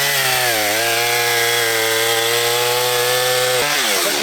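A chainsaw bites into a tree trunk during shrub clearing, its engine holding a loud, steady buzzing whine for several seconds before the pitch drops briefly near the end, close and alone without voices.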